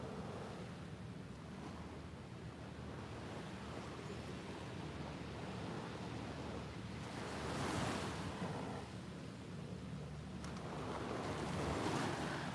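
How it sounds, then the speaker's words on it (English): Ocean waves roll onto Patong Beach in Phuket, Thailand, a soft continuous surf wash with two gentle swells of breaking water, fairly faint and steady with some wind, no voices. "I'm sitting here just listening to these waves"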